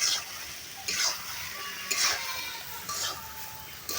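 Pangas fish being stir-fried and stirred into a vegetable curry in a pot, with a few sharp metallic scrapes and clinks of a ladle spaced about a second apart over a soft sizzling background.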